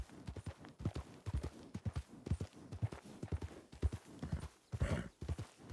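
Horse hooves clip-clop steadily in a Red Dead roleplay game, with a short whinny near the end; the hoofbeats are close, rhythmic and fairly quiet, with faint background ambience.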